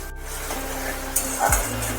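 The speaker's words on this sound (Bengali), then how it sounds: "এবার টমেটো রসুন বাটা আর হলুদ এই তিনটে একসাথে করে ভালোভাবে একটু নেড়ে নিতে হবে" Tomato, garlic paste and turmeric stirred in hot oil, a steady close sizzle under a spoon scraping the pan, with a brief clatter near the end.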